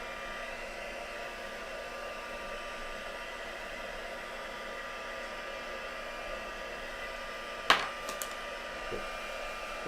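A hair dryer blows steadily at close range, drying a craft project with a constant airy whoosh and hum; a few brief clicks or knocks come near the end.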